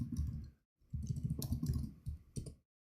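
Code being typed on a computer keyboard in quick bursts of close, crisp key clicks, pausing briefly before another run of tapping, no voices.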